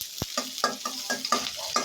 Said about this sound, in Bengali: এই যে একটু ভাজা ভাজা করে নিলাম